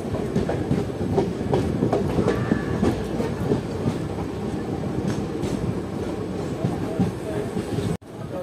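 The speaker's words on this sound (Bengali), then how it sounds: "আমাদের ট্রেন 2 মিনিট হল দেওয়ার পর প্রান্তিক রেল স্টেশন থেকে ছেড়ে দিল" The 13015 Howrah–Jamalpur Kaviguru Express leaves Prantik station, rumbling and clattering steadily along the tracks, with rhythmic wheel noise and faint voices in the background, then a brief cut near the end.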